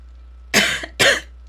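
Two sharp coughs in quick succession, close and fairly loud, from a person gaming, with no speech around them.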